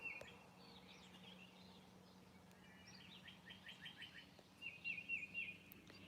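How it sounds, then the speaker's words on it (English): Birds sing at sunrise in the early morning, faint and somewhat distant, with scattered chirps and short trilled phrases over a quiet background hum. "The birds are beautiful."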